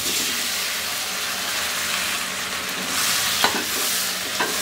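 Six boiled eggs frying in hot oil with turmeric make a loud, close, steady sizzle, with a couple of sharp spatula knocks toward the end.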